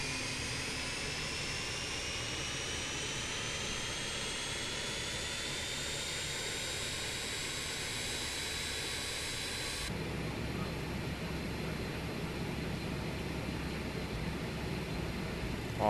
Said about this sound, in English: APU spool up.